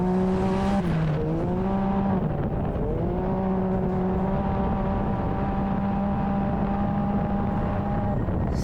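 Nitro Rallycross side-by-side race car drives out of a turn, its engine droning loud and close with a steady pitch that dips and rises briefly before holding a sustained high rev.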